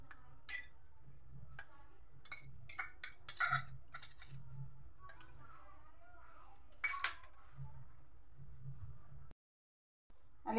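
A spoon stirs peas with coriander powder, turmeric, yogurt and red spice in a pot, giving faint, scattered metallic clinks and ticks against the pot, with a few louder knocks in quiet surroundings.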